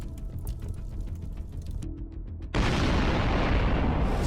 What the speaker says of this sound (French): entraînant la détonation immédiate de toutes les munitions du char